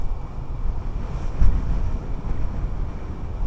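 Wind rushing past a rider on a Honda Vario 125 scooter in Bali, a constant low buffeting roar close to the microphone with a brief louder gust midway and no speech.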